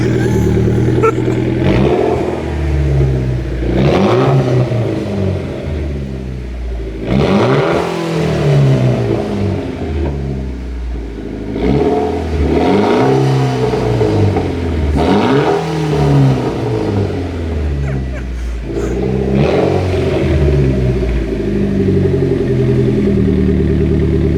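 A Mitsubishi Evo X GSR with a TOMEI exhaust is revved hard, close up and loud, in about six repeated throttle blips that rise and fall every few seconds over a rumbling idle.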